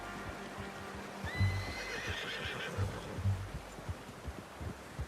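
A horse in Red Dead Redemption 2 gives a clear whinny partway through, with hoof clip-clops and soft low thuds scattered around it against quiet outdoor ambience.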